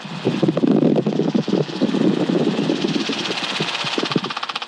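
Close and loud, an aircraft flying a turn in the traffic pattern gives a harsh buzzing drone with rapid pulsing beats as its blade tips break the sound barrier, steady throughout with no voices.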